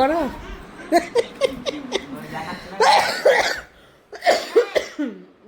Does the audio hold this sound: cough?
yes